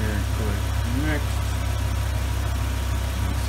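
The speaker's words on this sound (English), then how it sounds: "Says run engine at idle speed, which we are." A BMW S85 engine idles steadily during a Vanos bleed procedure, a continuous low drone with a person talking over it.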